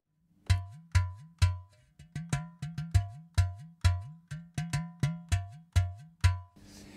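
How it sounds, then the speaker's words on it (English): A Valter Percussion Aludo 2 is struck in a steady, syncopated rhythm, each hit a deep booming bass tone with a bright metallic ring, close and alone, ending in a brief rustling scrape. "The Aludo has a very nice bass sound."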